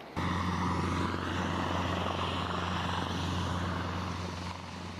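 Military helicopters drone loudly and continuously, with a steady low rotor hum and broad engine roar that holds throughout, easing off slightly at the end.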